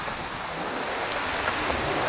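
Sea waves wash in a continuous, fairly loud surf roar mixed with wind noise on the microphone, steady throughout with no voices.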